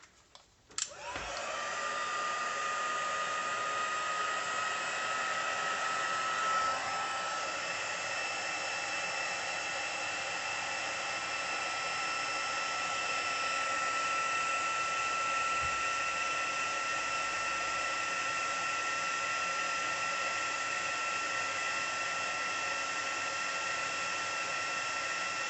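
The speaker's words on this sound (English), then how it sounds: "and I'm bringing my heat gun back in." A heat gun blows hot air onto an embossed Christmas card, clicking on and then holding a steady, even whirring hum with a high whine that runs continuously to the end, close and alone.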